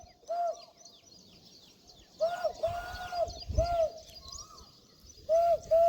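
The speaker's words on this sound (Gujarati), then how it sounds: "અહીંયા પીપળમાં કોયલ મંડી છે બોલવા" An Asian koel's clear, rising whistled call repeats several times from a peepal tree at a moderate distance, with quiet gaps and faint rustling in between.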